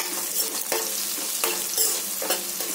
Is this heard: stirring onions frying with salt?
yes